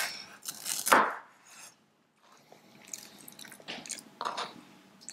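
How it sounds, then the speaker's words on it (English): Knife cutting thin slices of stacked bacon on a cutting board: a sharp, close chop near the start, then a run of softer, evenly spaced slicing strokes with quiet gaps between them. "Then we're going to place one on top of the other and cut it into very thin slices."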